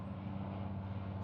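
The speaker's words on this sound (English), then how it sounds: "helicopter coming by." A helicopter passes by with a steady low droning rotor and engine rumble, moderately distant and continuous for the whole short stretch, with no talk over it.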